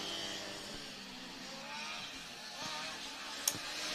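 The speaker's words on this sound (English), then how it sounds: "Really, really loud car. They are using the new KTM engine, the 690 LC4." A Formula Student race car powered by a KTM 690 LC4 engine drones at a distance during endurance running, a moderate, steady engine tone with faint shifting pitch.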